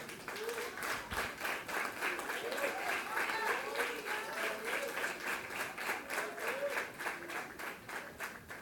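A standing church congregation claps in praise in a fast, even rhythm while a voice sings or speaks over the clapping, lasting throughout.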